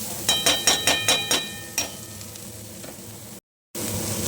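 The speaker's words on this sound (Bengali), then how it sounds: "নাড়াচাড়া করে নিচ্ছি লবণ আর হলুদটা দিয়ে" Beans with salt and turmeric are stirred in a pan, a quick run of six sharp spoon-on-pan clinks followed by one more, then a steady sizzle, with a brief dropout near the end.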